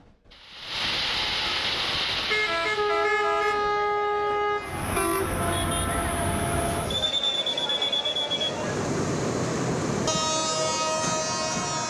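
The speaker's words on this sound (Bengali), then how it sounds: "যাত্রী ঠেসে ছেড়ে যায় একের পর এক ট্রেন ও লঞ্চ।" A crowded passenger train departing a station, with long tooting horn blasts, a high wheel squeal, and a busy, loud background rumble of the rail yard and crowd.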